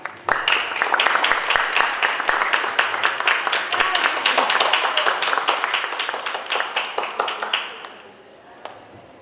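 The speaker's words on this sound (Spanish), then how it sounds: "Un fuerte aplauso." Audience applause at a lecture honoring a teacher, a loud, dense burst of many hands clapping that holds steady for several seconds before thinning out and fading near the end, with voices faintly under it.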